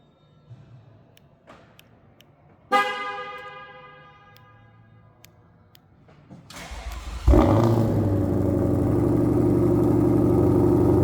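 After a few clicks and a brief electronic chime, a 2021 Ford Mustang Shelby GT500 engine cranks and roars to life, heard from behind at the dual exhaust, then settles into a loud, deep, steady idle.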